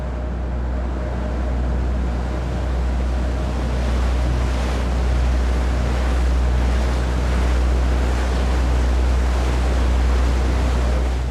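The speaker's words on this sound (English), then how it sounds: "I was recording some sounds the ferry is producing, like with the engine, or like the water the ferry is moving" A ferry's engine rumbling low and constant beneath the rush of water moving around the hull, with wind buffeting the microphone, a steady broad wash with no voices.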